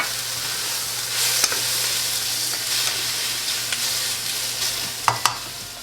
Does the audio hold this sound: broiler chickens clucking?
no